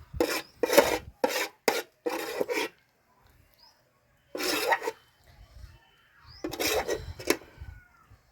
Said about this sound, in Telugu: ఇంక ఇప్పుడైతే అన్నీ వేసి రోట్లో అయితే దంచుదామండి